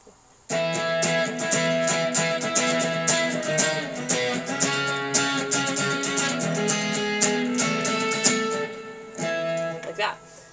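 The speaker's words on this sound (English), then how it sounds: "Rhythm with the full strumming pattern, it sounds something like this." An acoustic-sounding guitar plays a full strumming rhythm pattern, with dense, steady chords ringing continuously for about ten seconds before a brief pause and a final strum, close and loud with no voice.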